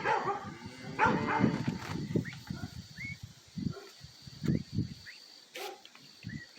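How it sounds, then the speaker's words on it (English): Dogs bark in short scattered yelps at a moderate distance outdoors near a duck kennel, with crickets or insects chirping faintly underneath and no talking. "It's okay, it's just the dogs."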